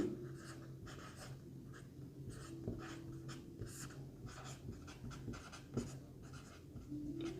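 Steady chalk or marker writing on a board in a classroom maths lesson, with continuous scratchy strokes and small taps running throughout, close and moderately quiet, with no talk.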